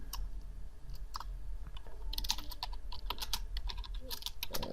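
Rapid clicking of keys on a computer keyboard, steady close-up typing in quick irregular bursts over a low background hum, with no speech.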